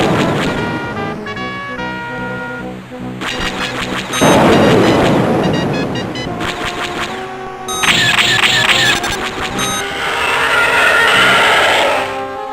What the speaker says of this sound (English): all the iconic sounds from Star Wars, including the lasers, proton torpedoes, voices, and ship sounds,